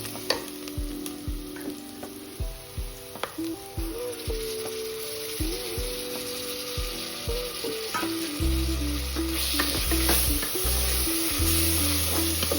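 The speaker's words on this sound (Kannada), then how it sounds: "ಇದು ಹಸಿ ವಾಸನೆ ಹೋಗೋ ತನಕ ಫ್ರೈ ಮಾಡ್ಕೋಬೇಕು." Ginger garlic paste frying in a pan for chicken biryani: a steady bright sizzle with regular scraping strokes of a spoon, then a louder, denser hiss toward the end, close and with no one talking.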